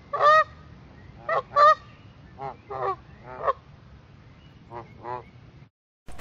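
A human voice imitates a goose, giving a string of nasal, honking calls in short bursts of one or two, loud and close with brief pauses between.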